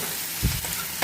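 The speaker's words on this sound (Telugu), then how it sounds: "ఇప్పుడు వంకాయ వేస్తున్నానండి." Brinjal pieces frying in a pan for an egg and dried fish curry, a brief, close sizzle with a soft thud as the pieces land in hot oil.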